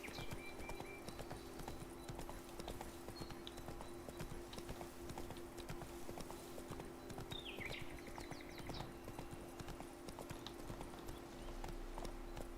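Horse hooves clip-clop steadily in The Witcher 3 video game, a continuous moderately loud trotting rhythm over a low game ambience with a few faint bird chirps, no talking.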